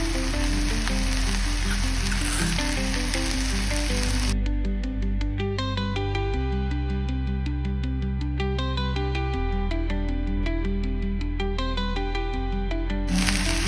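Grated fresh coconut frying with dry prawns for a Goan prawn kismoor gives a bright, close sizzle for the first few seconds, then steady music plays over it almost to the end.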